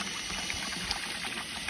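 Mountain water trickles and runs steadily in a soft, continuous flow, faint and somewhat distant, with no voices.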